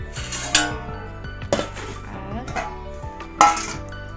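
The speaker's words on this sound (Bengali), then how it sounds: "এখন আমি রান্না করার বাসন নিয়ে আসবো" Cooking pots, pans and utensils being picked up and set down in a home kitchen, with several sharp metallic clanks and clinks over a few seconds, close by and without talking.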